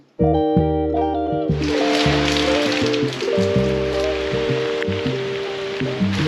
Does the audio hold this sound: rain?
yes